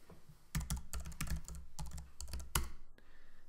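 Quick bursts of keystrokes on a computer keyboard as an answer is typed into a quiz game, close and clear, with short pauses between clusters of clicks and a faint tone at the end.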